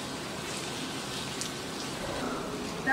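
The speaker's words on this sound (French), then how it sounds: "là il pleut tellement." Steady heavy rain falls on the Costa Brava near Cadaqués, a continuous even hiss with no breaks, close and moderately loud throughout.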